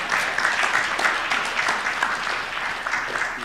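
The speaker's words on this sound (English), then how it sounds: "Appreciate him with a round of applause." Audience applause at a WSPU general assembly as a guest comes on stage, a dense, even round of clapping from a large crowd, sustained and fairly close.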